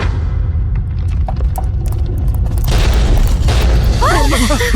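A deep boom with heavy rumble breaks out as a statue explodes, followed by crumbling, rattling debris noise as it shatters nearby.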